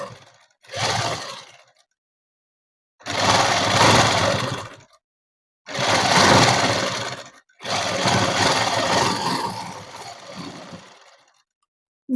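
A sewing machine stitches a net cloth dress in four loud, close bursts of rapid mechanical whirring, each lasting one to four seconds and separated by short silent pauses.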